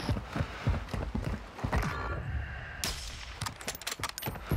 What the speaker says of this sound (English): He's getting shot at from this building.